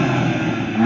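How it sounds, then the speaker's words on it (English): A BMW M2 Competition's engine revs in a short, loud burst, a steady mid-pitched growl held near the microphone with the pitch starting to climb right at the end. "I'm going to start with the BMW. So here we go, revs."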